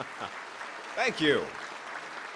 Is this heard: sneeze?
no